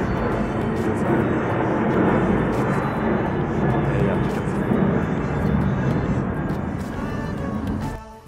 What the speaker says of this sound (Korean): 계속 지금 비행기가 난 지나가고 있다.